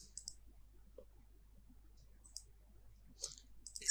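Sparse, crisp clicks from a computer mouse, a few spaced taps over several quiet seconds, close and faint against a low hum.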